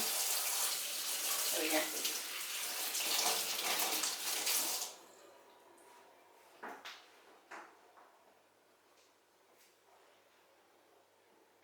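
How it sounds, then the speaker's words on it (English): Tap water gushes loudly into a kitchen sink while hands are washed, then cuts off around the midpoint, followed by a few soft clunks and knocks and brief talk. "Let me wash my hands again."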